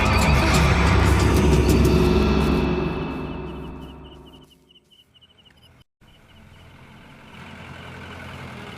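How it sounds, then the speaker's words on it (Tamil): A horse neighs loudly and at length in an outdoor night scene, the whinny trailing off into quiet before low ambient noise resumes, with no one speaking. "குதிரை சத்தம் கேக்குது"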